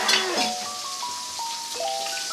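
A hamburger patty sizzles loudly in a hot pan as it is flipped, a steady crackling fry with scattered pops close up.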